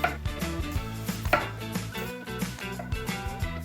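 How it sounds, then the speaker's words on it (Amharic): Fresh garden tomato chopped on a cutting board for a falafel sandwich, with rapid close knife strikes against the board in an even rhythm and a faint clatter of dishes. "ይሄው ቲማቲሜ እንደዚህ ከትፋለሁ ለሳንዱች የሚሆነኝ"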